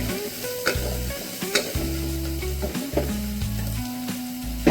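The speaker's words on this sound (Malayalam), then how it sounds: "പിന്നെ നമ്മുടെ സവോള, ഇഞ്ചി, പച്ചമുളക് ഇതെല്ലാം കൂടെ ഇതിലോട്ടിട്ട് ഒന്ന് വഴറ്റി" Onion, ginger and green chili sautéing in a pan, a steady close sizzle with repeated scraping strokes of a spoon stirring throughout.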